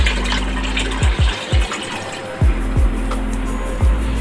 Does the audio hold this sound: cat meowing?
no